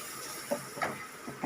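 Tomatoes dropped into hot oil in a pan while cooking kondakadalai gravy, giving a steady soft sizzling hiss with a few brief louder spits and crackles.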